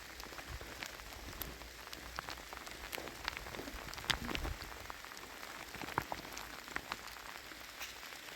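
Rain patters steadily and softly on a surface during a mountain blizzard, with scattered sharper drop hits over a constant hiss and no speech.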